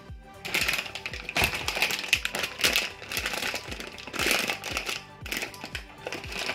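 LOL Surprise toy packaging being torn open, a busy run of close crinkling, tearing and tapping, dense and uneven throughout with faint background noise and no clear talk.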